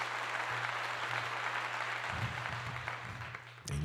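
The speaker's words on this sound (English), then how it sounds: "Round of applause for that." A crowd at a political speech gives a round of applause, steady clapping that stays fairly distant and moderate, with a low hum underneath. The clapping fades near the end.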